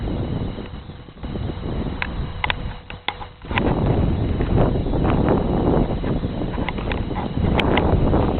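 Gusty, cold wind buffets the microphone on an evening walk through a small town on 1 May, a steady rough rush with a few brief clicks and taps over it, close and fairly loud.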